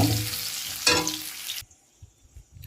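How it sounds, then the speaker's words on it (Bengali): Potatoes frying in hot oil with turmeric give a close, dense sizzle that cuts off abruptly partway through, leaving a few soft knocks of utensils in near quiet. "আমার আলুটা ভাজা হয়ে গেছে, লাল লাল করে ভাজা হয়ে গেছে।"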